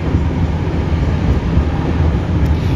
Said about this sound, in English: Motorists waiting for the train to pass